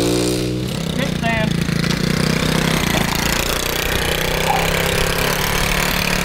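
A Honda Z50R mini bike engine running steadily, a loud, close, continuous buzzing putter throughout, with people talking over it.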